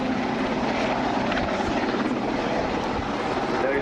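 A Westland Sea King helicopter flies at a coastal air show, its steady rotor chop and turbine roar filling the air continuously and loudly, with faint crowd murmur underneath.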